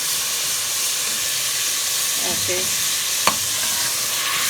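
Chicken pieces for yakhni chicken fry in hot oil, a constant close hissing sizzle as they are lifted out, with a brief sharp clink from a utensil partway through and no talking.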